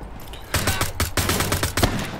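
Rapid pistol gunfire in Wolfenstein The Old Blood, a close, loud string of sharp shots at an irregular quick rhythm after a brief quiet start.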